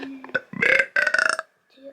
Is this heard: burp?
yes